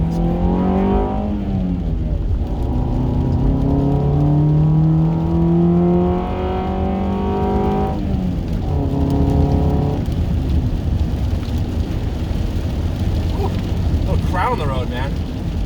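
A 1998 Honda Accord with the 2.3-litre F23A1 engine and five-speed manual revs up through the gears on a rainy road, engine pitch climbing and dropping with each shift over steady road and wet tyre noise.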